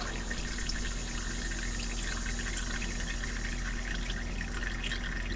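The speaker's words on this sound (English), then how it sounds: "It helps it drip down into the pan." Old motor oil runs from a 6.4 Hemi Ram truck through a pour spout into a drain pan, a steady continuous liquid pour with constant wash and no breaks, close by and fairly loud.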